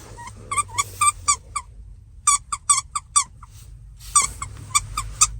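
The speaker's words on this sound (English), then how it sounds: "as soon as I hit the squeaky area of this thing" A squeaky donut-shaped dog toy is squeezed repeatedly, giving bursts of high, shrill squeaks in quick clusters with short pauses between them, close and fairly loud over a low background hum.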